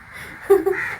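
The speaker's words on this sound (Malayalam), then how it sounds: "കാക്കേൻ്റെ സൗണ്ട് കേട്ട് കേട്ട് കേട്ട് മടുത്തു" Two short, harsh caws from a crow over a faint background hum, close and fairly loud.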